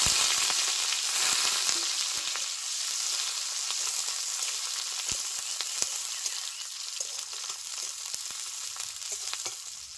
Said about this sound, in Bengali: কড়াইতে আরও একবার সরিষার তেল দিয়ে দিয়েছি এখন দিয়ে দিচ্ছি গোটা সাদা জিরে দিয়ে দিচ্ছি পেঁয়াজ